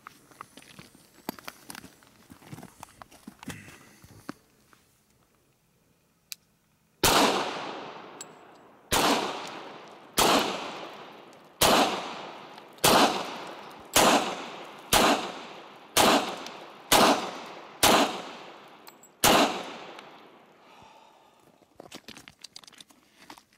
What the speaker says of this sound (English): just wanted to shoot the pistol again